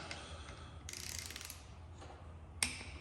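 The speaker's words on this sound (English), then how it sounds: "a half to a quarter turn on each one of these, just by where the end starts out. Should be close to torquing them." A ratchet clicks in short bursts while turning engine bolts toward torque during a Tri-Z engine rebuild, with quiet mechanical ticks and a sharp click near the end over low background hum.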